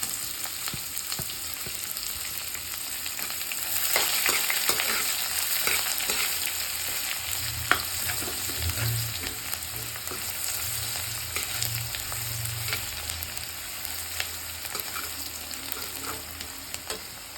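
Roasted peanuts with grated ginger and onion fry in a pan for upma: a steady close sizzle runs throughout with scattered scraping clicks from stirring and no voices.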